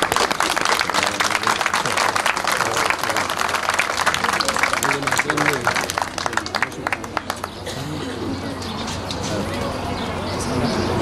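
Outdoor crowd applause at a parade ceremony in San Carlos, steady broadband clapping for about seven seconds, then thinning into looser scattered claps with birds cooing and voices murmuring underneath.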